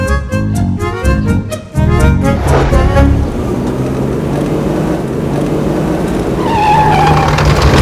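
A car in a Hindi TV comedy street scene brakes to a stop, with steady road noise after a musical opening and a rising squeal near the end.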